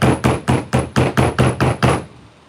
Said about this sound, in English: I was thinking of leaving it in the mold and hammering there, Richard, but I think all the sand will like